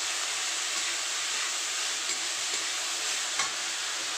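Dheki fern greens hit hot oil seasoned with panch phoron and fry, producing a dense, even sizzle that holds steady and loud with a few faint stirring clinks.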